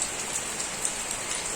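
Steady rain falling on surfaces outdoors, a dense continuous hiss with faint scattered drop taps, even and moderately loud throughout with no voices.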